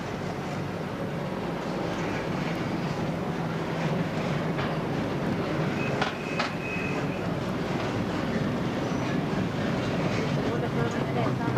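A train rumbles steadily across a combined road-and-rail bridge in Vietnam, a continuous broad roar with faint metallic squeals, heard alongside narration.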